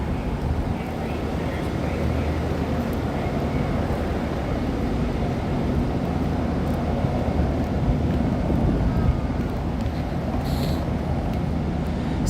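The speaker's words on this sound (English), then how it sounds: "Sounds like the helicopter is still over here." A steady, droning helicopter engine rumble hangs overhead at night in Los Angeles throughout, continuous and fairly loud, with a faint hint of rotor thrum and no talking.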